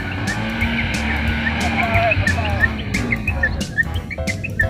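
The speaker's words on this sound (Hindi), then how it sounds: "देखिए फ्रेंड्स गाड़ी हम लोगों की धस चुकी है इस समय।" A car stuck in ground on the way to Prayagraj revs its engine as it works to pull free, with a strained, wavering drone and sharp tire-squeal-like chirps, loud and close under background activity.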